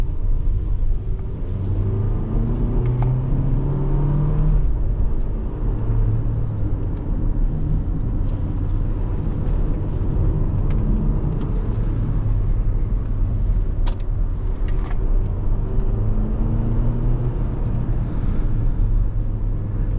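A 2023 Toyota Highlander XSE with the four-cylinder engine cruising, heard from inside the cabin as a steady low engine and road rumble with mild rises in engine note.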